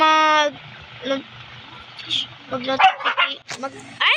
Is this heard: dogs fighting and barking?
yes